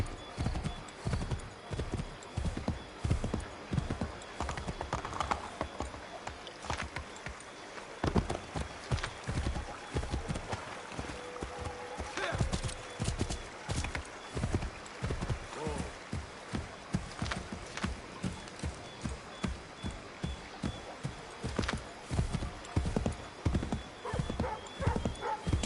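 Horse hooves gallop in Assassin's Creed 3, a steady, fast clip-clop rhythm running throughout, with occasional whinnies and game speech and effects layered over it.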